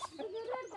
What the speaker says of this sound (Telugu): ఇగో పిల్లలు వస్తున్నాయి, కోడి పిల్లలు చూడండి.